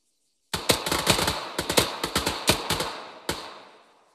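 L131A1 pistol fired in Arma 3 on a training range: after a second of silence, about a dozen sharp shots crack in quick pairs and clusters, loud and close, with a last lone shot and a fading echo tail.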